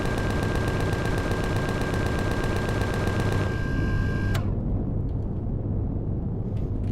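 Rapid automatic gunfire rattles in the video game Empyrion as an even stream of shots that stops at about the halfway mark, followed by a sharp report and then quieter low rumbling.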